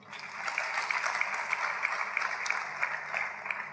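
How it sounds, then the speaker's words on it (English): A church congregation claps together during a sermon, a dense, steady patter of many hands that stays even and moderately loud throughout, with no voices over it. "Clap for him."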